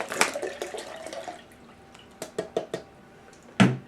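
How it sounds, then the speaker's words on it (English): Coconut water is poured into a Nutribullet cup: a short splashy trickle, followed by a few separate drips and light clinks, ending with a sharper knock against the cup. "put our liquids in first. 18 ounces of coconut water here"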